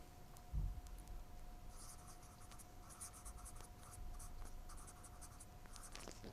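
Chalk or marker scratching on a board during a chemistry lecture on electrochemistry, a faint, steady, intermittent scraping with short strokes over a quiet room hum, no voices.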